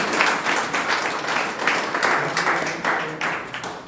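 An audience at a Toastmasters club milestone meeting breaks into steady applause for a speaker. The clapping is dense and fairly close, with a continuous patter of claps and no talking.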